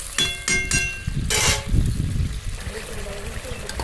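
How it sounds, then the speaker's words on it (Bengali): A few light clinks, then about a bowl of water pours and gurgles into a cooking pot with turmeric, with a low, steady splashing that settles toward the end. "দিয়ে এক বাটি মতো জল দিলাম"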